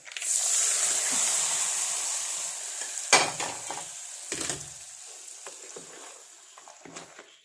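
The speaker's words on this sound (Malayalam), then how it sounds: "ചൂടോടെ അങ്ങ് ഇളക്കി കൊടുക്കണം." Hot lemon pickle being stirred in a pan, an Onam-style naranga achar: a loud, steady sizzle and hiss at first, fading slowly, with several sharp scraping clacks of the spoon against the pan partway through.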